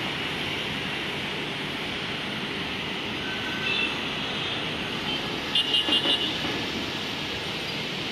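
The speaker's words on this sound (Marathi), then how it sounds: "full traffic jam" Heavy traffic jammed on the NH 66 service road during a highway closure diversion, a steady broadband wash of idling and crawling engines with a few brief horn-like tones near the end, no talk.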